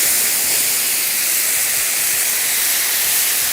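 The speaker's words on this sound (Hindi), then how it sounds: "बस अब इसमें हमने शामिल करना है चिकन की यखनी।" Chicken stock poured into a hot cooking pan: a loud, steady rushing hiss of liquid meeting heat, continuous and close for a few seconds with no talking.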